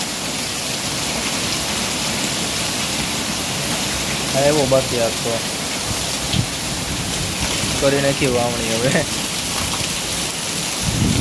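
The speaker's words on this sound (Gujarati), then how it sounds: "ધબધબાટી પવન સાથે" Heavy rain from Cyclone Biparjoy pours steadily with a gusty rushing wash, and a person speaks briefly twice over the downpour.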